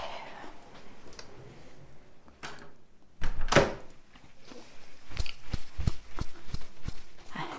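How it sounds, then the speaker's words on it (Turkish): A household door swings shut with a solid thunk, followed by scattered knocks and handling sounds in a quiet indoor room, with no talking. "Kapıyı kapatayım."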